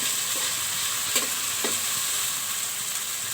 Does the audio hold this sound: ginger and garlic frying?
yes